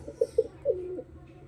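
Pigeons coo in a short run of about three soft, throaty calls, a young pigeon among them, over a low steady background hum.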